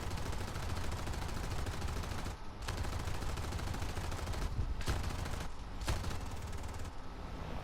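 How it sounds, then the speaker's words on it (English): Sustained rapid aircraft cannon fire in War Thunder roars almost without pause, broken by a few short gaps, loud and close with heavy low-end thump. "shot out all my cannon ammo."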